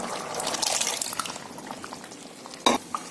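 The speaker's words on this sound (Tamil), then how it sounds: "பருப்பையும் ஊற்றிடலாம்" Cooked dal pours into simmering sambar in a pot, a soft, wet splashing and gurgling that swells early, fades, then ends with a brief sharper slop near the end.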